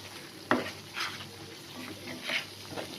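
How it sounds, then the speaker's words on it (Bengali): Cumin and coriander frying in a pan while being stirred, giving a soft steady sizzle with a few brief scraping strokes of a spoon against the metal, heard close and fairly quiet. "জিরে ধনে দিয়ে আবারও একটু আমি কষিয়ে নিই।"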